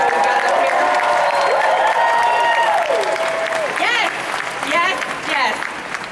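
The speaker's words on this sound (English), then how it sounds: "Can we get one more big round of applause for this awesome crew that we got up here?" A large Comic Con panel audience in San Diego breaks into loud, sustained applause and cheering that fills the hall, with whoops and a voice over the crowd roar.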